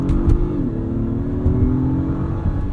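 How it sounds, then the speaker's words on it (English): A 2022 Acura MDX Type S engine in sport mode, a steady, muted drone heard from inside the cabin with a slight pitch shift as it revs, plus a few faint clicks. "Engine is still pretty muted."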